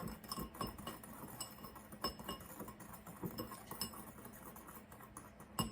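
Sugar and cinnamon whisked together in a bowl for a cinnamon swirl, quick light clinks and taps of a whisk against the bowl in an irregular rhythm, close and fairly quiet.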